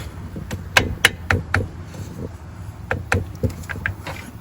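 A hammer taps lightly on a gear of a Yamaha Raptor 700 ATV, about a dozen short, crisp knocks in small irregular bursts, close by with a faint background hum.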